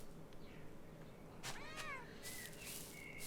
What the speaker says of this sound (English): Petting cats. You just have to do it